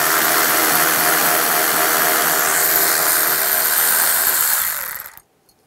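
A power tool with a 10 mm socket runs steadily and loudly, a continuous whirring drone as it takes out panel bolts on a Toyota Prius, then cuts off abruptly near the end.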